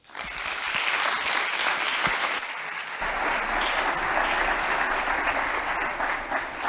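An audience breaks into steady, full applause welcoming a student presentation team, a dense wash of clapping from a crowded room that holds throughout.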